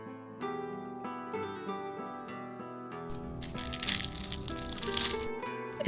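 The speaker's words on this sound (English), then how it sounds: "once you dig in, it is super crispy." Crisp crunching as a fork digs into a baked feta and spinach pie with flaky layers, a dry crackling burst rising over soft background music partway through.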